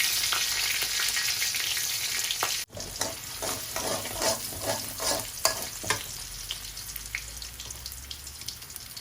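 Garlic and chili frying in hot oil in a pan, a loud continuous sizzle broken by a sudden drop as they are stirred in, followed by scraping stir strokes over the ongoing crackle.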